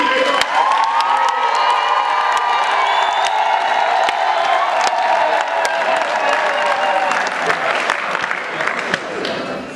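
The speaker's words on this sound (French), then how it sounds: "Acclamez très fort pour elle." Wedding guests at a nuptial blessing cheering for the bride, a loud, close crowd of whoops, shouts and applause sustained throughout, with voices mixed in.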